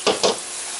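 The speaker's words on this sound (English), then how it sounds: "It's cold water, cold filtered water. I'm going to rinse it and get all the starch out of it." Rice rinsed under cold filtered tap water, giving two quick, loud splashing bursts close by that fade into a soft hiss.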